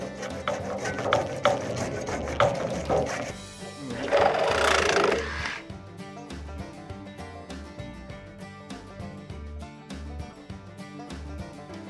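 A handsaw cuts through PVC pipe in a run of rhythmic rasping back-and-forth strokes, close and moderately loud, with a louder scraping burst partway through.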